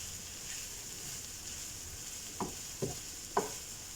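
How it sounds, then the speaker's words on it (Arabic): Shredded chicken filling with parsley and coriander for Moroccan briouats being stirred in a pan, a faint steady sizzle with three soft scraping strokes near the end, quiet and without speech. "هلا بضل عم حركن لحتى تصير عندي الحشوة مستوية وجاهزة"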